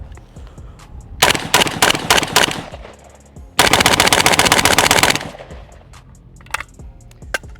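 AK rifle firing Polish GROM ammunition: a short burst of rapid shots, then a pause, then a long sustained stream of loud, close gunfire, followed by a quieter stretch with a couple of isolated cracks.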